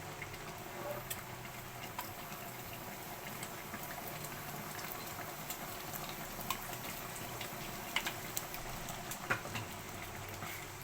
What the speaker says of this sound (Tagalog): hindi na natin siya tatakpan, hayaan natin siya na kumulo para mag-evaporate na yung kanyang sabaw